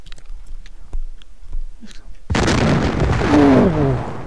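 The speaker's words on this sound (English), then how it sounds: "One of my ships is firing and I don't know which." Heavy warship gunfire in a computer-generated Jutland naval battle game breaks in suddenly after a quiet stretch, a loud sustained boom with rumbling, crackling roar that swells and rolls on.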